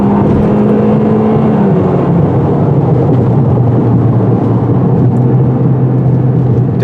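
A 2022 Toyota Corolla Apex accelerating hard in sport mode on a 0 to 60 run, heard from inside as a loud, sustained engine drone rising and settling in pitch over road and wind noise.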